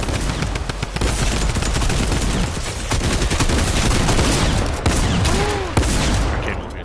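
Sustained, dense gunfire in a video game: rapid overlapping shots and bursts with a few sharper cracks and a brief whistling sweep, loud and continuous for several seconds.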